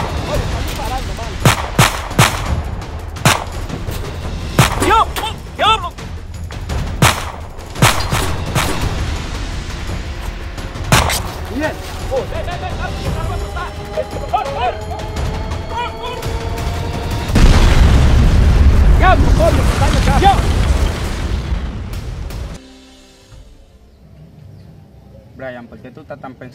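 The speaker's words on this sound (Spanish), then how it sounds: "están disparando" Gunfire from a street-crime film shootout: repeated sharp booming shots, some in quick bursts, ring out loud and close over a dense soundtrack, with voices shouting in between before the action cuts off near the end.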